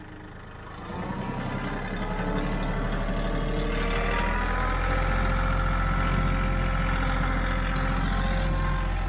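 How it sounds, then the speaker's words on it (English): A KIOTI CK4010 HST tractor engine drones at close range as it strains to pull a Titan 1912 flexwing mower, a steady low rumble that rises in load and loudness after the first second and holds constant. "this tractor should be able to pull it. So Let's see if it will"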